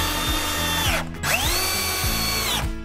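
Power screwdriver driving euro screws into a wardrobe reinforcing plank, a loud close whine that rises and falls in pitch with a short break in the middle, with rhythmic ratcheting pulses throughout.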